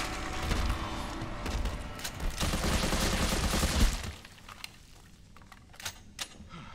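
Rapid gunfire from Resident Evil 3 rattles in a dense burst for about four seconds, then fades to a few sharp, scattered shots.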